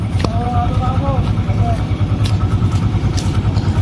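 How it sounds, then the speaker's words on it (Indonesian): A Kubota diesel engine that drives a blower runs with a steady low throbbing drone and no gaps, while someone talks over it nearby. "Kita langsung saja ke ujung karena lagi penyalaan rangkaian diesel."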